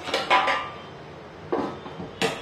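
A lid set down on a pot of modak dough makes several sharp metallic clanks and rattles in short bursts, each clatter close and loud, with quiet gaps between them.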